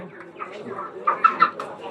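Broiler chickens at a market poultry shop give a few short clucks and squawks close by, mixed in with people talking.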